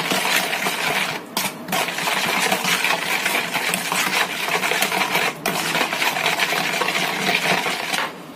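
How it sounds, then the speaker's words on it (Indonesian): A spoon clinks and scrapes rapidly and continuously against a bowl, stirring sugar, salt and vanillin until dissolved, with a couple of brief pauses in the stirring. "kita aduk dulu"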